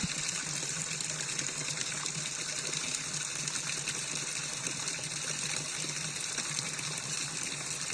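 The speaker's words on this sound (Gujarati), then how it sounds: "જે પાણી જે છે આ રીતે સ્ત્રોતનું પાણી છે જે પહાડોમાંથી આવતું હોય છે" Spring water running down from forested hills makes a steady, dense rushing and gushing sound, continuous and moderately close, with no voices throughout.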